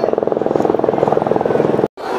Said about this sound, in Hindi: आम आदमियों का हेलीकॉप्टर आ रही है।